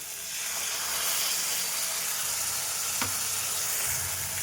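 Cashew and poppy seed paste hitting a hot pan with yogurt for a doi katla curry, a loud, steady, close sizzle and hiss running throughout with a faint clink partway through.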